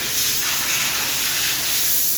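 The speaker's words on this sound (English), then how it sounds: "I'm going to spray the second coat and then I'll show you what it looks like all covered." A paint spray gun lays a second coat onto the inside of car parts, giving a continuous, close, loud hiss with no pauses.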